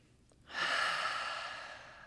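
A single deep breath during a guided meditation, quiet at first and then a long airy exhale that swells quickly and fades slowly, close to the microphone with no talk over it.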